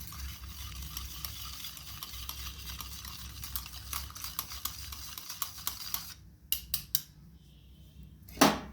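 Cake batter of flour, milk and sugar being stirred in a bowl, a steady scraping and clinking of utensil against the dish, rhythmic and close, with a few sharper knocks near the end.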